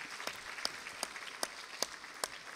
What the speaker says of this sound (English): Let's all give all of them a round of applause.